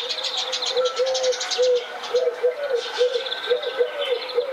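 Birds calling at dawn in a Bangladeshi village, a repeated soft cooing phrase up close with fainter chirps and tweets scattered behind it, steady and clear with no one speaking.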